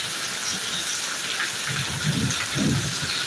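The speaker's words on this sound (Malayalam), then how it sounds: "ഒരുപാട് നേരമായി മഴ പെയ്തുകൊണ്ടിരിക്കുന്നുണ്ട്" Heavy rain pours steadily in Thiruvananthapuram in a dense, loud hiss, with low rumbling swells of thunder building toward the end.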